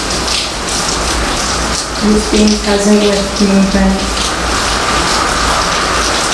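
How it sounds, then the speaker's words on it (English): Steady rain falls throughout, a constant broad hiss, while someone speaks calmly over it for a few seconds in the middle. "Listening to the sound of the rain"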